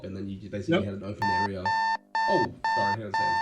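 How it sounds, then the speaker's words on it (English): An alarm beeps in repeated steady electronic bursts, loud and close, starting partway through while people are talking over it. "That's the alarm."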